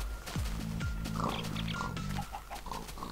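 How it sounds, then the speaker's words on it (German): Pigs oinking in Minecraft, several close, loud grunts in a row with a few softer game sounds behind them, with no voices. "Noch ein paar Schweinchen."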